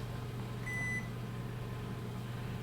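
A Wolf oven's control panel in a Sub-Zero, Wolf and Cove appliance showroom gives one short, clear electronic beep as the timer button is pressed, heard over a steady low room hum with no talking.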